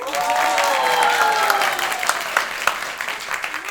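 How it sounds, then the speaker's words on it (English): Audience clapping before a show, steady and fairly close, with a rising melodic tone or music line running through it and a few sharper claps standing out. "Ladies and gentlemen, please put your hands together for me."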